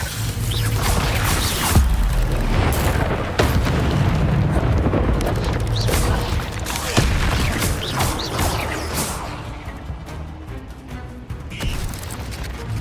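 Repeated fiery blasts from an Incendio spell in Hogwarts Legacy, cast during a fight with spiders: loud, dense booms and crackling bursts follow one another almost without pause, heavy and close throughout.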